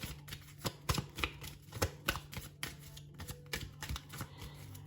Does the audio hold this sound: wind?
no